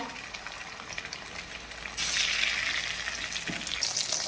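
Garlic paste frying in a pan for pav bhaji, a steady close sizzle that swells louder about halfway through and keeps going, with no talk over it.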